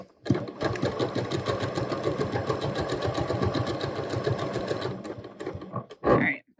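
A sewing machine stitches a pants waistband in a steady, rapid run of needle strokes lasting several seconds, close and loud, then stops briefly before a short final burst.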